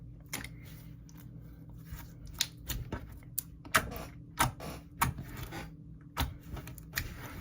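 Thick clear slime is squeezed and pressed, making sharp, close clicks and pops in an irregular rhythm over a quiet background, with no speech.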